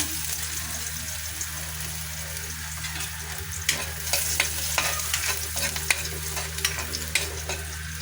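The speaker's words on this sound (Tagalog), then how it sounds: "Ilalagay na natin guys yung bawang." Garlic frying in a pan on a lit stove, a steady soft sizzle with occasional sharper crackles and stirring clicks toward the end, close by with no talking.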